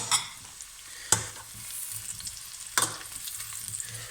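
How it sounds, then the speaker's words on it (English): Mushrooms, closed cup and chestnut, frying in hot vegetable oil give a steady, soft sizzle, broken by three sharp clatters of stirring or utensil knocks spaced through it. "I've got our mushrooms here. These are going to go in. It's very muted fry."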